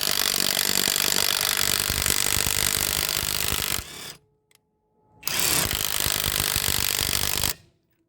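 Cordless impact wrench running on a repaired Chinese battery while unscrewing, two long, loud, steady whirring bursts close by, separated by a short quiet gap.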